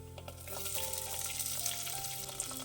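Half a cup of shallots hits hot oil in a pan with dried chillies and garlic for a drumstick-leaf sambar, a close, continuous sizzle with faint stirring scrapes and a low background hum.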